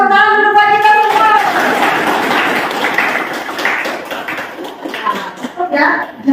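Schoolchildren in a classroom clap their hands together in a loud, dense burst that fills the room, with an adult and children's voices heard at the start and fading as the clapping thins toward the end.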